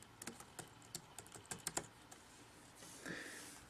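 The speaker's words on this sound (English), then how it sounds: "So just type Disk Utility" Typing on a Mac keyboard: a quick burst of close, crisp key clicks in an uneven rhythm, followed by a short softer rustle.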